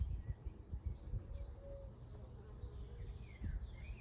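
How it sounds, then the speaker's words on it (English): Faint birdsong drifts in from a distance outdoors, with scattered chirps and soft calls over a quiet, low background rumble. "The sounds of the birds"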